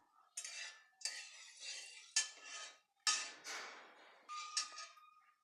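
Whole spices, including bay leaf, cardamom, cloves and cinnamon, are stirred in a pan, heard as about six bursts of close metallic scraping and clinking separated by short pauses.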